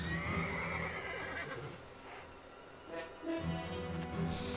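A horse whinnies in the video game Gabriel Knight 3, a drawn-out neigh near the start followed by further whinnying cries, moderately loud over a low background rumble.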